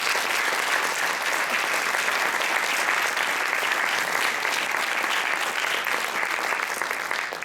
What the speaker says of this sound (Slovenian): En najlepši aplavz za njih najprej,